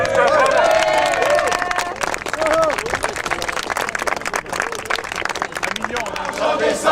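Protest rally crowd at a Virgin workers' gathering clapping and cheering, a loud dense wash of applause mixed with shouting voices and babble throughout.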